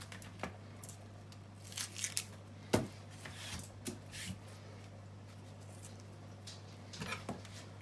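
Dry papery skin being peeled and torn off an onion, a few soft crinkling and tearing rustles spaced out over several seconds, close and quiet with no talking.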